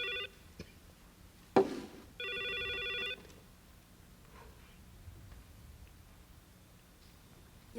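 An old telephone bell rings in a quiet room in a 1988 Korean TV drama: a short ring, a dull thump, then a second, longer ring, after which the room falls silent.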